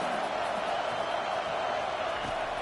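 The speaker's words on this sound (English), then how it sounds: "This crowd trying to make life miserable for this offense." Stadium crowd noise in the video game EA College Football 25, a continuous dense roar of many voices at steady, loud level, filling the whole stretch without pauses.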